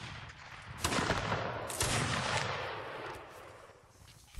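Distant musket volleys in the Napoleonic Wars mod of Mount & Blade Warband, a couple of rolling, overlapping cracks that fade into a lingering rumble of battlefield noise.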